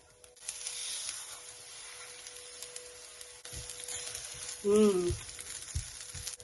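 Butter sizzles and fries in a hot pan while cooking dried drumstick (moringa) leaves, a steady close hiss with a brief louder tonal squeal near the end.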